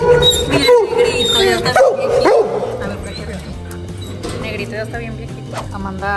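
Several dogs bark and yip in short bursts close by, with a whimpering tone mixed in, as people talk over them throughout.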